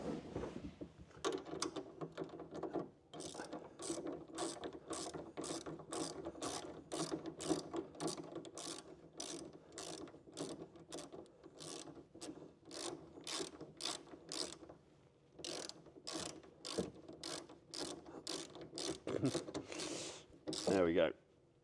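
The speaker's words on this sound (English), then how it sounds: "just going to take a ratchet and a spanner and just tighten those up so they can be fully tightened up at this stage" A hand ratchet tightens tonneau cover brackets on a 2023 Ford Ranger Wildtrak, making long runs of sharp, evenly spaced clicks up close with a few short pauses, then a final rattle of handling.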